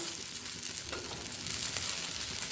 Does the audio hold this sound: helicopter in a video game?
no